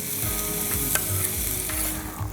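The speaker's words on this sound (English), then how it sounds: "What I'm doing here is I'm frying the bacon and the onion." Streaky bacon and onion sizzle in oil in a pan, a dense continuous crackle close up, with the occasional scrape of stirring and no talk.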